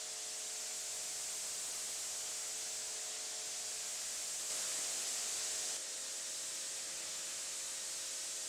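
Loud, continuous hiss of a pressure washer spraying water, a steady high-pitched jet with a faint motor drone beneath and no voices.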